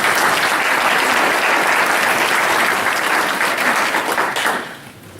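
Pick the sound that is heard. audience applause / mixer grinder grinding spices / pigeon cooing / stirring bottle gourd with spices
audience applause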